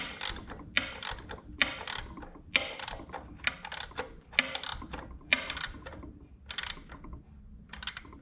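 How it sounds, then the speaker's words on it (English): A ratchet wrench tightens a bolt on a K-swap heater core bypass, giving bursts of rapid close clicking in short repeated strokes with brief pauses between them, crisp and fairly loud, with no talking. "And just like any other bolt, you will tighten it down until it's nice and snug."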